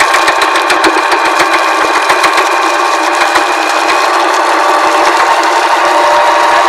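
A US Jetting 4018 sewer jetter's engine runs steadily and loudly, a dense, unbroken mechanical roar with a rapid rattling texture, close by and continuing without pause.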